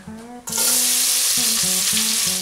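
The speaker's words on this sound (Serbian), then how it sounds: "i staviš pržit na ugrijanu svinjsku mast." Diced onion hits hot pork lard and erupts into a loud, bright sizzle that holds steady for about two seconds, close up and without any talk.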